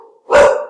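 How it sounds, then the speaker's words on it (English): Dogs bark in one short, loud burst that rises out of near silence, close to the mic, with no talk over it. "the dogs are excited for the charting session we're doing here"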